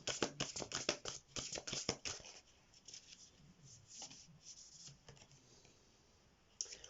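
An oracle card deck is being shuffled up close, with a quick burst of crisp riffling and rubbing card noises, then softer occasional sliding and tapping, and a final brief shuffle; no speech.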